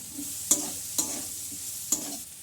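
Chicken coated in cumin powder, curry masala and garam masala being stirred in a frying pan, a soft steady sizzle broken by three distinct scraping strokes of the spatula.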